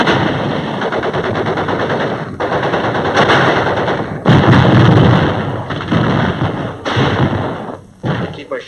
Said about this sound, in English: A mortar barrage searches out hidden machine gun nest.